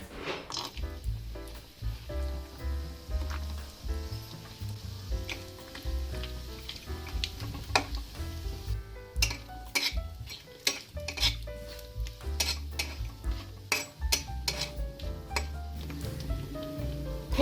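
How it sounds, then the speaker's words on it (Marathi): Coconut roasting in two spoons of oil in a kadhai, a soft sizzle with an ongoing low hum, growing into frequent metallic scrapes and clinks of a spatula stirring, fairly quiet and close. "अगोदर आपण खोबरे भाजून घेणार आहोत।"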